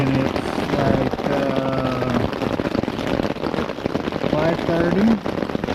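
Morning rain falling on a riverside camp on the Gasconade River, a constant patter of drops on a surface that continues under someone talking.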